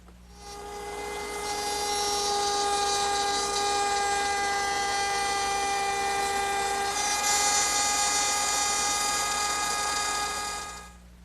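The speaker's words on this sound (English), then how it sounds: "Now I'll just move my guide block to the other line, which is the leading edge of the bit, and finish the rabbeting." A router cuts rabbets in wood along a guide block, a steady high-pitched whine that spins up, holds loud and even for about nine seconds with a slight shift midway, then winds down.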